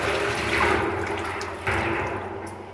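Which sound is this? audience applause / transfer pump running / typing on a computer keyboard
transfer pump running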